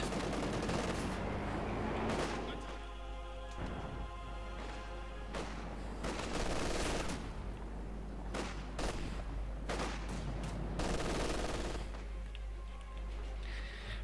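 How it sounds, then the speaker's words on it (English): Dense bursts of machine gun fire and heavy tank main gun shots in the Company of Heroes 2 strategy game, with a continuous din of battle, explosions and rattling gunfire layered throughout. "There goes section 9 into the Panther IV, firing away the machine gun and main gun."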